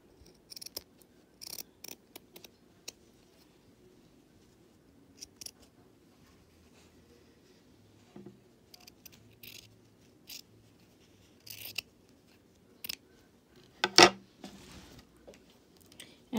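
Scissors make sparse, faint snips through crocheted mask material, separated by long quiet gaps and followed by a sharper, louder cut near the end.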